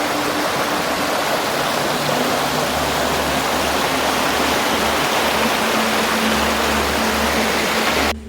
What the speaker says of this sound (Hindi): Who would want to miss this stream?